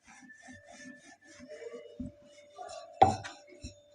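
Wheat flour dough is rolled out on a wooden rolling board with a rolling pin, giving soft rubbing and rolling strokes. A few light wooden knocks punctuate it, one louder tap near the end.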